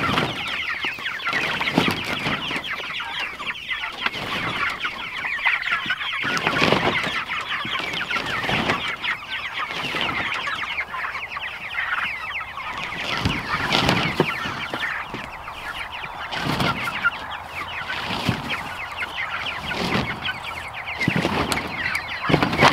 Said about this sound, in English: we need to move and feed this batch of meat birds.